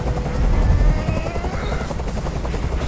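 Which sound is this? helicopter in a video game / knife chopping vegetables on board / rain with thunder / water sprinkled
helicopter in a video game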